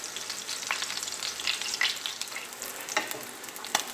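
Food sizzles steadily in a hot pan, with scattered pops and crackles over a constant frying hiss.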